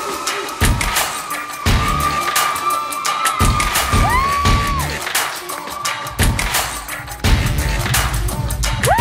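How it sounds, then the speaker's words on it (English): Loud, sustained applause and cheering from an audience at a bodybuilding competition, with whoops and scattered shouts over continuous clapping throughout. "applause"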